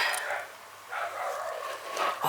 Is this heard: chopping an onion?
no